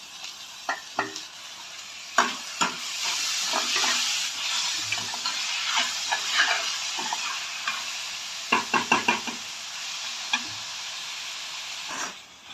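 Tomatoes and green chilies go into golden-browned onions frying for pav bhaji, producing a steady sizzling hiss broken by bursts of quick metallic stirring and scraping against the pan.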